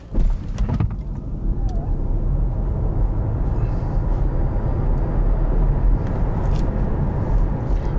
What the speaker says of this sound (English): Then let's accelerate the BMW iX2 xDrive 30, 313 horsepower